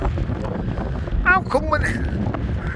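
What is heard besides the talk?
wind on Blackpool Central Pier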